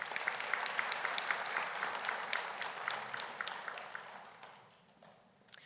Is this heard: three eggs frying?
no